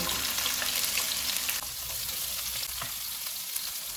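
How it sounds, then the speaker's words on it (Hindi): Onions sizzle and crackle in hot oil with cumin, a steady close frying hiss with occasional pops and stirring. "ऑयल गर्म हो गया, इसमें 1 टीस्पून ज़ीरा डालेंगे। इसको 30 सेकंड तक भूनेंगे। 1 प्याज डालेंगे।"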